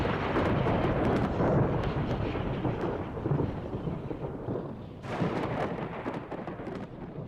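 Deep rolling thunder from lightning rumbles continuously through a thunderstorm with rain, loud and reverberant. A fresh crack and renewed roll arrive near the end.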